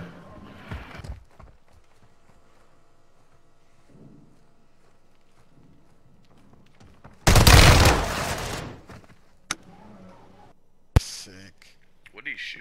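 Gunfire in the video game Warzone: a loud sustained burst of shots mid-clip, followed by two sharp single cracks, with quiet game ambience and footsteps before it.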